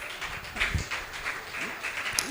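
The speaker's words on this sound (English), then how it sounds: "Keep clapping, please," Audience at a tax reforms workshop clapping for an associate professor coming up to speak, a modest spread of hands clapping under a reverberant voice over a hall PA, moderately loud and uneven.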